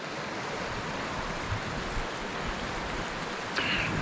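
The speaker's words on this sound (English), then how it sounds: "Just still enjoying nature and the sounds of this river." A river flows steadily outdoors on a camping trip near Yellowstone, a continuous broadband rush of water with a constant level and no pauses, heard alone without talk.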